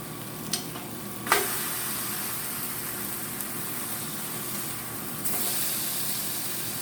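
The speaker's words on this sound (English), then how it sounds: "Okay, we're going to flip our burgers." Texas cheeseburgers sizzle steadily on a smokeless indoor grill, with a sharp knock as the patties are flipped, followed by an even, continuous hiss of frying without talk.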